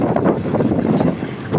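Wind buffets the microphone on an open safari vehicle in the Maasai Mara, a loud continuous rumbling roar with gusty swells and no voice.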